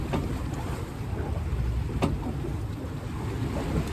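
A Catalina Capri 26 sailboat moving gently through the water, with a steady wash of water against the hull and light wind noise, fairly close and continuous.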